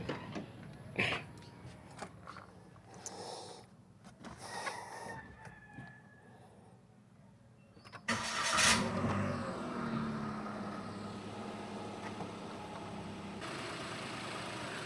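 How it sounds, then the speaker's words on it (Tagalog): A Toyota Wigo G 2026 during a 10,000 km service: after a stretch of faint shop noise, the engine cranks and fires with a sharp burst, then settles into a quiet, steady idle. "Let's do a quick start of the engine."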